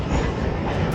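A Sealdah local train running, heard from inside as a loud, steady rumble with rattling wheel and carriage noise that never lets up.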